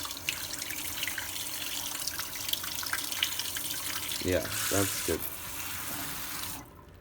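Water sprays from a nozzle onto a plant in salty soil, a continuous hissing stream with brief gurgling splashes near the end before it cuts off; a voice speaks briefly.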